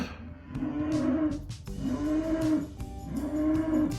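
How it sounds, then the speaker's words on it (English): A cow outside a corral moos loudly three times in a row, each call long, low and drawn out, with brief pauses between. "one really noisy cow on the outside of the corral"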